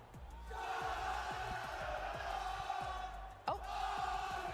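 A large arena crowd at the Fortnite FNCS Global Championship roars and cheers steadily, with rhythmic thumping claps or drums underneath and a brief sharp shout partway through.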